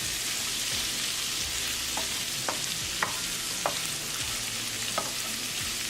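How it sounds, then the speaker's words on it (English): Shrimp frying in butter and olive oil with garlic over a medium gas flame, a loud steady sizzle throughout with several sharp utensil taps and scrapes as the pan is stirred. "We'll add shrimp. And on medium gas, mix it well."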